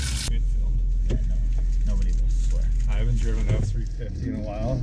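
Ford F-350 pickup truck rolling along with a steady low engine and road rumble inside the cab, constant throughout while people talk over it.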